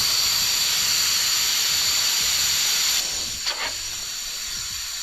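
Air hissing steadily out of a tire through a deflation valve on a four-way tire deflation system, a loud continuous broadband hiss that drops to a quieter, softer flow partway through.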